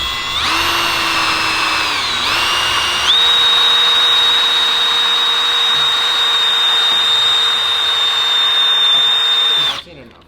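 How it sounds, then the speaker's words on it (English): A cordless drill whines loudly and continuously while drilling 1/4-inch holes, its pitch dipping and then rising as it bites into material, before cutting off abruptly. "I bitched about an M18 drill for so long, and then John finally gets one."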